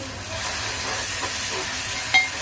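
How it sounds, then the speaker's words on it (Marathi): Water poured into hot curry masala for a jitada fish curry sets off a steady, fairly loud hiss of steam and sizzle lasting a couple of seconds, with a brief sharper crackle near the end. "याच्यामध्ये आपण थोडंसं पाणी घालू"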